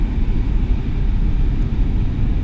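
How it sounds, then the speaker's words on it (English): Airplane landing at Heathrow Airport, a steady broad low roar of jet engines with constant loudness and no distinct peaks, fairly loud and sustained. "there goes the plane that just landed coming in."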